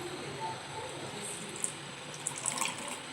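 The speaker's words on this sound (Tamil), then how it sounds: "இப்போ தண்ணி கொஞ்சம் ஊற்றிடலாம்." Water trickles and splashes into a kitchen mixer jar, a soft continuous pouring with a few small drips and clinks near the end.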